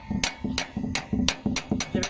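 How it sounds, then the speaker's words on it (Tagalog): Bolts being hammered during an airbag replacement on a Volvo 480, about nine sharp metallic strikes close by in a steady, even rhythm. "pukpukin ko itong mga bolt"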